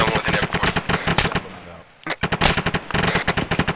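Rapid bursts of automatic gunfire in ArmA 3 combat, loud close rattling volleys with a short pause before the shooting resumes, and a voice talking faintly beneath.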